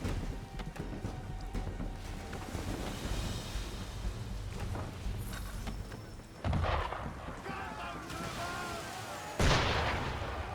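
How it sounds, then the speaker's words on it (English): Gunfire is aimed at a boat in the video game Assassin's Creed 3, with booming cannon-like blasts bursting twice amid rain and a rumbling storm backdrop. "Why is he shooting at us?"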